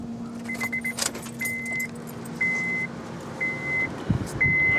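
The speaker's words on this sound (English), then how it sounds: "So I'm going to ask the owner to turn on the vehicle if necessary." A car being opened and started by its owner during a vehicle inspection: keys jangle, a steady engine-like hum runs throughout, and a series of evenly spaced electronic chime beeps repeats, with a sharp knock near the end.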